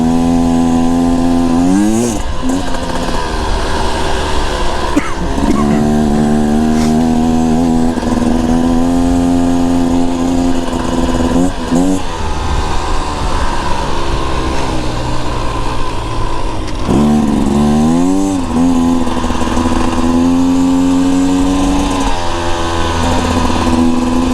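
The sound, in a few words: Beta Xtrainer dirt bike riding through sand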